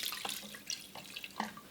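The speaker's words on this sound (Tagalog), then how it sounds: "lagyan natin ng tubig" Tap water running into a pot over pork ribs, onion and whole peppercorns while cooking nilaga, a steady close splashing flow with a few brighter splashes.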